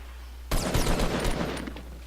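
Gunfire in the video game Fortnite Battle Royale erupts after half a second of quiet as a rapid burst of overlapping shots that rattles on and gradually thins out.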